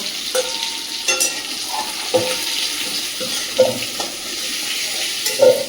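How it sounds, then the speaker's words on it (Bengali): Fried chicken pieces sizzle in hot oil in a pan as they are lifted out, a steady crackling hiss with a few sharper clinks and bumps from the utensil scattered through. "চিকেনগুলো আমি ভেজে নিয়েছি, তুলে নেব।"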